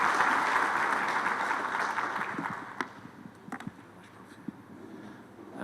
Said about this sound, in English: May we give our speaker a big round of applause again